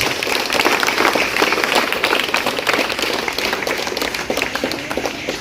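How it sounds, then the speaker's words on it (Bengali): Audience at a felicitation ceremony at Purulia Zilla School applauding, dense continuous clapping from many hands, fairly loud and sustained throughout. "আমরা এর জন্য সকলকে একবার হাততালি দিয়ে অভিনন্দন জানাতে বলব"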